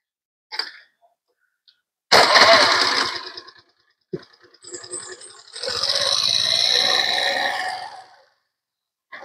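A scooty motor scooter starts during a beginner's riding practice session, a loud broadband burst of engine noise followed by a sustained running roar, with short sharp noises before and between.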